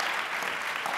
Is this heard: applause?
yes